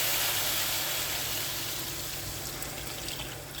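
Broth poured over cooked rice in a pot, a steady close splashing pour that runs continuously and tapers slightly in loudness.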